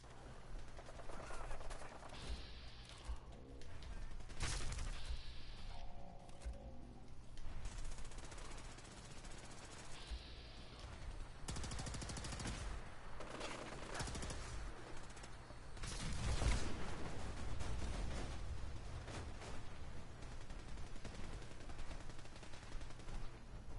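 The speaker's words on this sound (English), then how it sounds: "Minigun." A minigun fires in the video game Fallout 4 in long, dense bursts of rapid gunfire that run almost continuously. The shots are fairly loud and alone, and the bursts swell and ease as the firing goes on.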